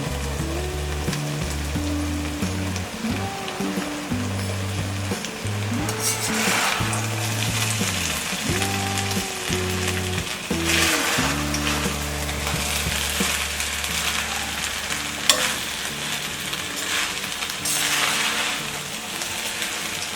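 Cooked rice stir-fried with soya chunks for street-style fried rice makes a continuous sizzle with scraping spatula strokes, carrying on beneath loud background music.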